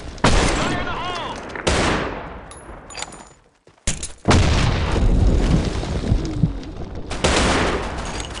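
Gunfire and grenade explosions in a multiplayer shooter game burst out in loud rapid volleys and heavy booms, with a brief lull midway, while in-game voices shout over the action.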